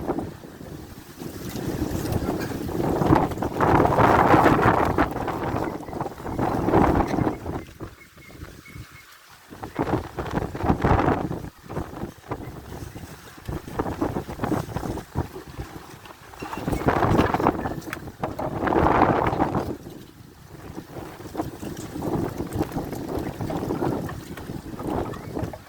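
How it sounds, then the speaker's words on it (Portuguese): Strong gusting wind roars across an open waterside spot, surging loud and buffeting the microphone in waves, with a brief lull before the gusts build again. "Tentando se esconder do vento aí, ó."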